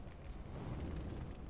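A rumbling, low explosion-like boom that sustains for over a second, dense and muffled, like a blast effect from a game.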